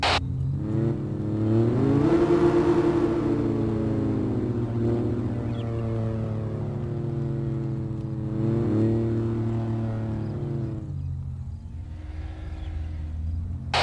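Engine of a car driving along a street near a convenience store in an Arma roleplay game, a steady loud drone that swells and rises in pitch a couple of times before easing off.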